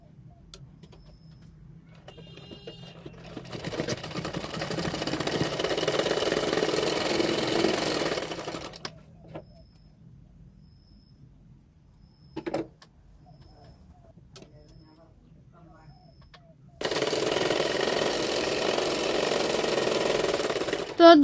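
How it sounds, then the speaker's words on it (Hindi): A sewing machine stitches the shoulder seams of a double katori blouse with a half-inch margin, running in two steady close whirring bursts separated by a quiet pause. "मैं दोनों पार्टों को 1/2 इंच मार्जिन रखते हुए सिलाई कर रही हूँ शोल्डर को।"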